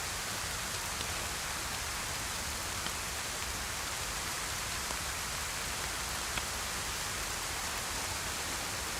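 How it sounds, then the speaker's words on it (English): Steady rain in DayZ hisses as a dense, even wash of droplets, constant and moderately loud with no pauses. "it's really hard to tell over the rain"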